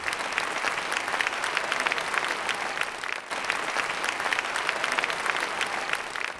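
Steady, dense applause from a large audience at a Tamil Independence Day debate event, continuous clapping at an even level throughout.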